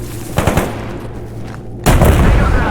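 Gunfire in the shooter Stalker GAMMA: a couple of close shots ring out early, then a much louder burst of fire erupts and keeps booming to the end.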